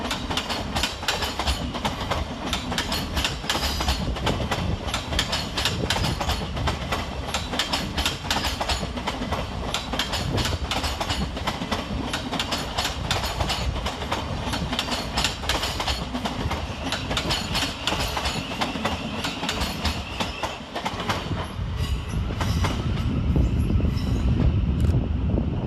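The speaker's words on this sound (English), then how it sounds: "Heading off in the opposite direction is 700 106, working the 1043 Govia Thameslink service from Horsham to Peterborough." A Class 700 Thameslink train runs through a station, a steady loud rushing rumble with rapid rhythmic wheel clatter throughout, growing heavier near the end.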